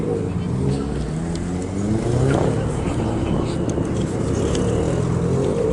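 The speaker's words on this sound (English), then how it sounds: "This is a 944 that's driving in, the yellow 944." A yellow Porsche 944 engine rumbles steadily close by as it rolls in at low speed at a car meet, with a busy outdoor crowd and chatter in the background.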